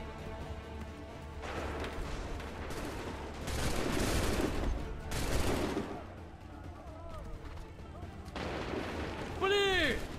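Booming musket volleys and scattered gunfire in a battle from the video game Assassin's Creed 3, rolling and continuous under a steady din, with shouted commands over the top.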